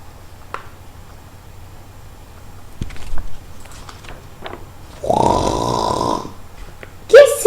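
A voice imitates a dog's loud snoring for a children's story: one drawn-out, rumbling snore after some quiet shuffling sounds, with a short sharp vocal sound at the end.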